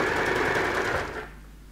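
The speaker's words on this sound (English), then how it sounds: "I'm gonna go forwards and back, and I'm just gonna sew straight down, making sure that I'm lining it up" A sewing machine stitching a straight seam on a lined zipper clutch bag, a steady close whirring run that slows and fades near the end.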